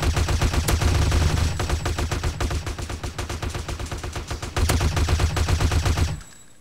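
Dense, continuous automatic gunfire from the video game DayZ, loud bursts of rapid shots rattling almost without pause for about six seconds before cutting off abruptly.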